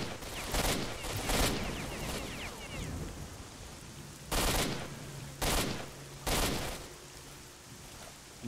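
Bursts of rapid gunfire in the video game S.T.A.L.K.E.R.: Shadow of Chernobyl erupt several times, loud and close, separated by short pauses over a low background rumble.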